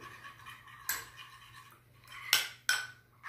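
Spoon scraping and clinking against a bowl while dill is stirred into a salmon marinade, a few sharp metallic clicks over soft background stirring, close and fairly quiet.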